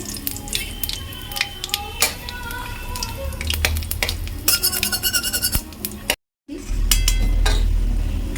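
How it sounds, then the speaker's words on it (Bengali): Lentil dumplings (bori) fry in a pan with a steady sizzle, broken by sharp clinks and scrapes of a utensil against the pan and one brief silent gap before the frying resumes louder. "আচ্ছা, বড়িটা ভেজে নিচ্ছি।"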